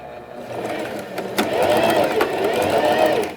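A sewing machine backstitches the folded edge of a pet bandana, a close, steady mechanical whirr with a rhythmic hum. A brief clack comes near the start, then the motor runs continuously to the end.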